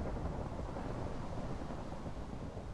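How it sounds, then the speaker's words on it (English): Steady rain with a low rumble of thunder in the Minecraft video game, a continuous dense wash of noise that fills the whole stretch without a break and with no talk. "Hopefully the rain isn't too noisy."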